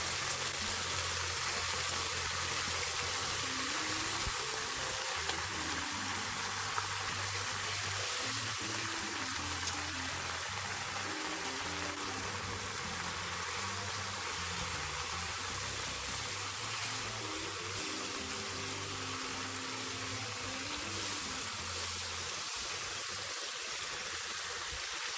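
Prepared soy sauce hits pan-fried tofu and scallion whites in a hot pan, a steady loud sizzle and hiss that carries on evenly for a long stretch, with faint background music underneath.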